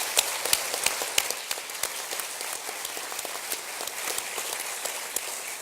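A state announcement audience applauds, a dense wash of claps with a few louder distinct hits standing out, steady throughout at moderate distance with no talk.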